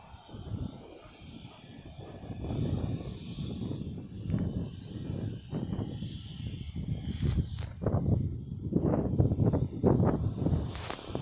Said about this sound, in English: That's some sort of TUI plane that's straightforward about to take off.